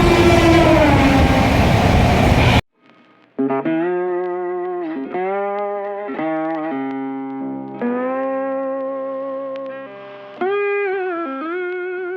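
A running train starts with a loud, broad rumble, which gives way to a long series of sustained tonal blasts that rise and fall in pitch.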